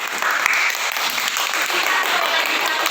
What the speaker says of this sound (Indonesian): Tepuk tangan untuk Julia.